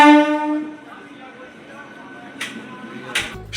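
A Panskura–Digha local train horn blasts loudly at the start with a sustained tone, followed by a low rumbling of rail movement and a couple of short bursts of clatter or noise near the end.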